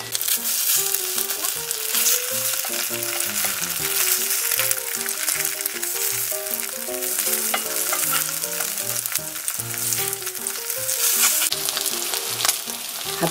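Perilla leaf and red chili pancakes fry in an oiled pan with a loud, constant close-up sizzle, while light scraping and turning sounds from a spatula recur throughout and music plays underneath.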